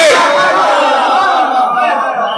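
A large crowd at a Muharram majlis gathering roars the slogan Naara-e-Haidari in unison, a loud, dense and sustained collective shout that slowly fades over a couple of seconds.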